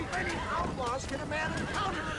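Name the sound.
horse hooves galloping in the video game Red Dead Redemption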